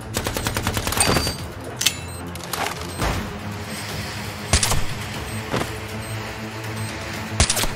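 Rapid gunfire from the mobile PvP shooter Special Forces Group 3, with bursts of automatic fire and sharp single shots cracking over a steady game soundscape, loud and continuous throughout.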